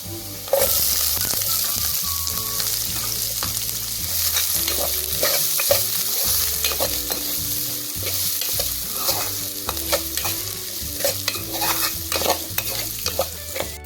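Chopped onions sizzle loudly in hot oil with crushed garlic and ginger, stirred repeatedly with a utensil that scrapes and clatters against the pan in an uneven rhythm, close and continuous.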